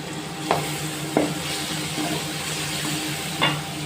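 Chilli powder being stirred into mango pickle in a hot pan, a steady sizzle with a few sharp scraping strokes from the spoon, close by and moderately loud, with no talking.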